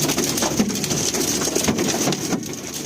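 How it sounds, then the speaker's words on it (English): A massive hailstorm in France, with stones around 4–5 cm, pelts surfaces in a dense, continuous clatter that stays loud and steady throughout. "a massive hailstorm wreaked havoc across France and Italy"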